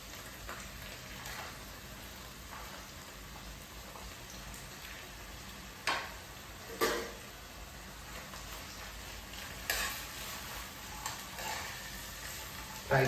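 Green peas and chillies fry in oil in a pan, a steady soft sizzle with occasional louder spits and stirring scrapes, close and continuous with no voices.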